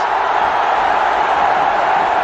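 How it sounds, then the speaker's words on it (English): Stadium crowd at a Bangladesh versus Sri Lanka cricket match, a steady broad roar of cheering that holds loud and even throughout. "The crowd have something to cheer about finally"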